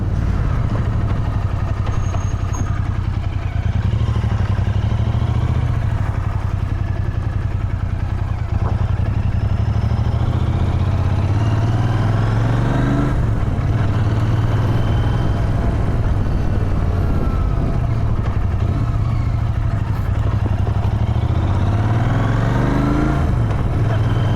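A Royal Enfield Interceptor 650 motorcycle ridden on a rough, broken road between Hampi and Badami in India, its engine a loud, steady close drone throughout with gear changes and rattling clatter from the bouncing bike and luggage.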